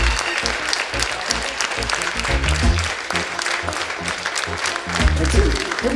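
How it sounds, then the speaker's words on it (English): An audience claps in a sustained, dense round of applause, loud and close, with a few voices mixed in. "Give him a round of applause."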